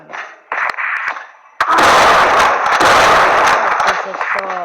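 Gunfire in a Ludo video game comes as a cluster of sharp, loud shots with a dense blast, followed by a sustained burst of rapid crackling fire. Short electronic game tones sit ahead of the shots.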